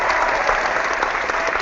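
Studio audience applause at a talk show, an even, steady burst of many hands clapping that fills the whole moment.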